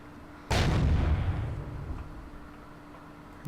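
An explosive charge detonates against alien blocks in the video game Empyrion: one sudden, loud booming blast that rolls into a long fading rumble, alone with no voices.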